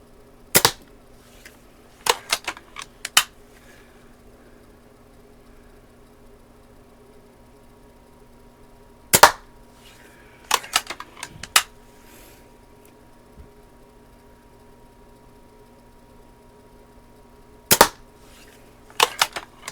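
A rebuilt Daisy 299 BB gun fires at an upper left-hand target: one crisp crack, a quick run of three shots, another single, a tight group of three, then two closing pops, close and loud in near silence.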